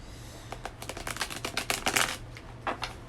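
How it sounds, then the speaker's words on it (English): A deck of cards riffled close up, a rapid burst of crisp flicking clicks building to a dense flutter, then a few trailing snaps. "let's get a good shuffle here"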